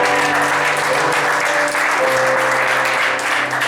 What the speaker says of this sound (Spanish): denle un aplauso a Cristo por el hogar